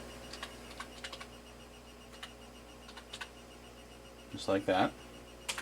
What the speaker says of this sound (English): my wife is actually typing this as I'm dictating